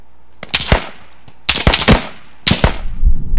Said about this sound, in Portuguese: disparo de AK à direita